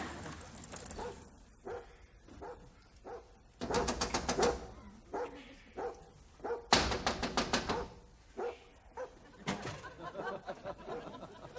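A dog barks in a series of sharp, separate yaps and bursts at close range, some clustered in quick runs, with a voice around it in an indoor drama scene.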